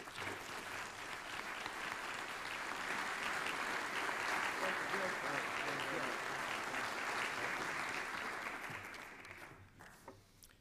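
An audience at an innovation policy summit applauds to welcome Governor Hunt, with steady, dense clapping from a large crowd that holds for several seconds before tapering off.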